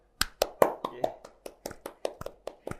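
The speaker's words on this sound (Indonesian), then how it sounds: "kita beri tepuk tangan untuk Bapak Bejo" A small group claps sparsely for Pak Bejo, a village head from Canden, with about a dozen separate, uneven claps spread through a quiet indoor moment and no talking over them.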